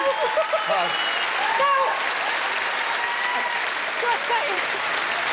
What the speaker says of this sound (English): I'd like you to put your hands together and give a massive round of applause to Phil from Big Fun!